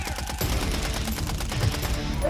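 Rapid gunfire in the video game Call of Duty Warzone 3, a fast automatic burst of repeated shots rattling steadily over a couple of seconds, fairly close and prominent.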